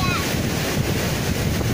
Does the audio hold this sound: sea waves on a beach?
yes